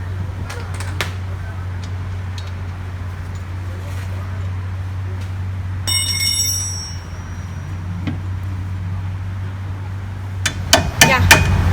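A hammer drives out the wheel hub assembly of a 2004 Nissan Altima. A few sharp metallic strikes land sparsely over a steady low hum, with a louder cluster of blows at the end.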